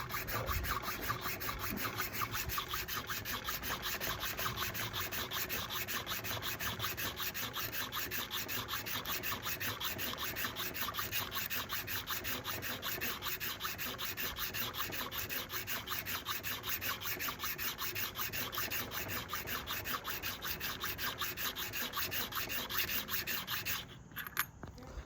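A three-blade broadhead is drawn over a sharpening surface in steady, repeated rubbing strokes, a continuous close scraping rasp that runs without pause for about twenty-five seconds with no voices.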